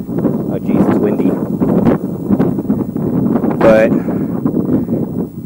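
Outdoor wind buffeting the microphone in rough gusts, rumbling low and steady beneath someone talking close to the mic throughout.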